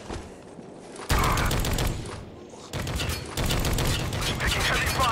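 Heavy gunfire in the shooter game Spec Ops: The Line, dense overlapping automatic bursts that jump abruptly in loudness, with battle shouts mixed in.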